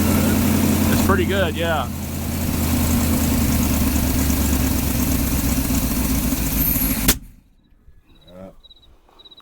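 A 1985 Chevy C-20 square body truck, pulled from a storage unit, idles with a steady low rumble for several seconds, then the engine cuts off abruptly; someone speaks briefly over the running engine.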